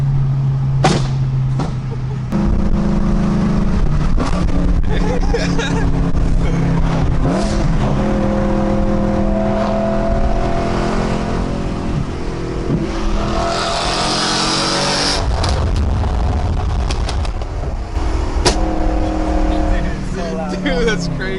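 A BMW M3 engine revs and pulls hard on a canyon run, a loud, continuous throaty drone whose pitch rises and falls through gear changes across the whole stretch, with people talking and laughing over it inside the car.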